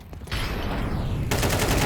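A dense burst of gunfire from a Counter-Strike match on the Mirage map, played in an ESL Challenger League esports game. The shots come as sustained, loud automatic firing that thickens into a heavier barrage partway through.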